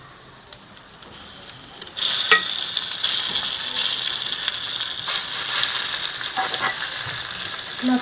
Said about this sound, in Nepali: चिनी भुटिसकेपछि म अब लप्सी राख्छु।